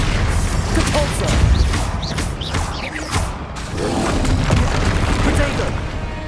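Confringo blasting spells explode in the Hogwarts Legacy video game during spell-casting combat. Loud, booming blasts and crashing impacts roll on almost without a break, and a voice speaks over the explosions.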